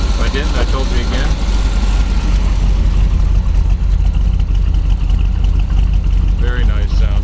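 A 1949 Chevrolet 5700 COE hauler with a Quadrajet four-barrel carburetor idles loudly and close, a steady low rumble that fills the whole stretch without pause.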